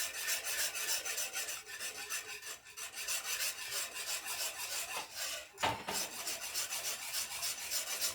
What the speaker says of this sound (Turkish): çorbamı karıştırmaya devam ediyorum